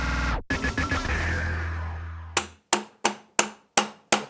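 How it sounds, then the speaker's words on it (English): Hammer blows knock steering head bearings out of a Honda CB550 motorcycle frame. An initial clatter is followed by six sharp, evenly spaced metallic strikes, close and loud. "We could do with 2 rubber hammers for this, really."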